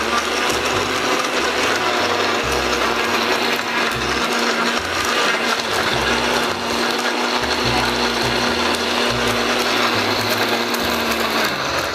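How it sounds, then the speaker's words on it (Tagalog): A blender whirs continuously as it mixes a tocino marinade, a loud, steady, gritty motor grind with a constant hum lasting the whole stretch. "Into the blender."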